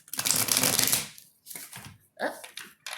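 A close riffle of tarot cards being shuffled, a fast fluttering burst followed by several shorter shuffling flicks and taps.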